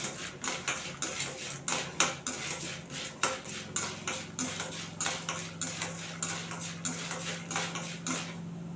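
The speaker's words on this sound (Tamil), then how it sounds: "அது கூட ஒரு கை ஒரு ஐம்பது கிராமுக்கும் கம்மியாக வேர்க்கடலை கடலை சேர்த்து வறுத்துக்கோங்க" Peanuts roasting in a pan, stirred with a metal spoon that makes a regular series of sharp clinks and scrapes against the pan, close and fairly quiet, with no voices.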